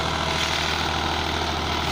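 A Powertrac 445 tractor pulls a 7 ft Sonalika rotavator while sowing wheat in a field, its diesel engine droning steadily and loud up close with a continuous low rumble throughout.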